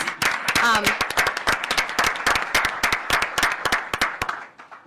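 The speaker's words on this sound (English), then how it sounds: "he deserves a round of applause." An audience at a Maryland governor's roadway safety announcement breaks into a short round of applause, with close, crisp individual claps and a voice briefly audible near the start before the clapping fades out.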